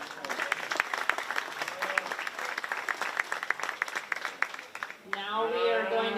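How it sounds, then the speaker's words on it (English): A county fair 4-H beef show crowd applauds steer champions with a lively burst of close, crisp claps lasting about five seconds, which ends abruptly as a louder, different sound takes over. "Please give them a round of applause"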